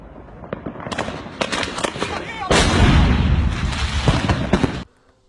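Dynamite detonating in the Roblox game Lumber Tycoon 2, a rapid string of sharp blasts building into a dense, loud roaring burst that cuts off abruptly, with excited voices faintly underneath.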